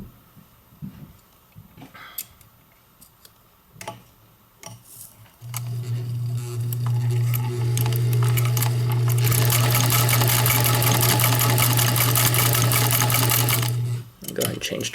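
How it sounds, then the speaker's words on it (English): A Pfaff 130 sewing machine stitches a wide zigzag, with a few faint clicks and handling noises first, then a loud steady mechanical hum and rapid ticking that runs continuously for several seconds before stopping briefly. "let's do a little bit of zigzagging just to show you that that feature works very well"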